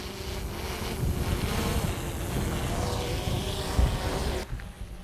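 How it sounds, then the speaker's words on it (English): A small drone flying over a quarry shaft on the moors in gusty wind, its faint motor whine buried under heavy rumbling wind noise against the microphone, with the buffeting easing slightly near the end. "so the drone doesn't like the wind, but it's caught quite well"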